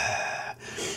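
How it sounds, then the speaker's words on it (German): A heavy gasping breath like a video game character's plays close and loud, a drawn inhale with a brief dip midway, then rising again. "Noch das Schnaufen wie in Videospielen immer."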